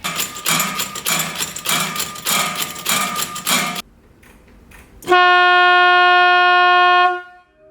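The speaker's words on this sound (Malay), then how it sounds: "dua bunyi yang berlainan iaitu satu bunyi ketukan tin dan satu lagi bunyi horn" A battery- and solar-powered electronic scarecrow for crop fields: rapid metallic tin knocking clatters for several seconds, then a pause with faint taps, followed by a loud, steady electronic horn blast that holds for two seconds.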